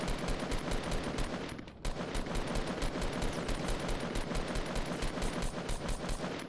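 Rapid automatic gunfire in a video game rattles continuously and loudly, with one short break before the bursts resume.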